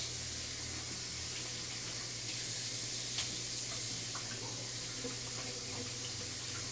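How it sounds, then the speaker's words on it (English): Beef tripe rinsed under a running kitchen tap, a continuous steady hiss and splash of water with a low hum beneath, close and unbroken throughout. "Once again, doing another rinse."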